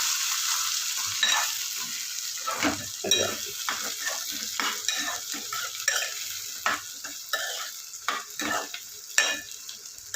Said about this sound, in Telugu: ఇట్లా వంకాయలు కూడా చక్కగా ఈ ఉల్లిపాయలతో పాటు కాసేపు వేగాలండి